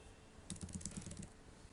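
Computer keyboard typing: a short burst of about six quick, light keystrokes at an even pace, fairly faint and close, with no talking.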